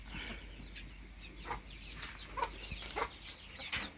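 A hen clucks in short, scattered bursts close by, with soft rustling between the calls.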